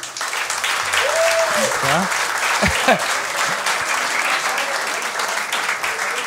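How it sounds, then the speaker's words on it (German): Audience clapping at a German NightWash stand-up comedy show, steady dense applause filling the whole stretch while the comedian speaks briefly over it. "Mal klatschen, wer das mal gemacht hat in der Schulzeit."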